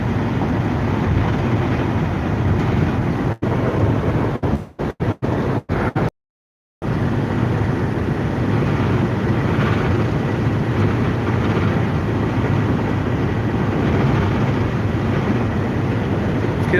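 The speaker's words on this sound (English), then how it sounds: "It's getting a little windier up here." Strong wind buffets the microphone high up on an exposed height, a loud, steady roaring rush that cuts out briefly partway through and then returns.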